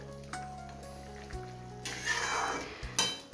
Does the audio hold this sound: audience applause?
no